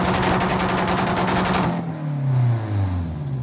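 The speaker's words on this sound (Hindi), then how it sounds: "अबे पटाखे चल रहे हैं, आपके भाई को बहुत ज्यादा डर लग रहा है, इतनी जोर जोर के धमाके हैं" Loud rapid crackle of firecrackers going off in a fast rattling string, then cutting out as a vehicle engine drones and shifts pitch nearby.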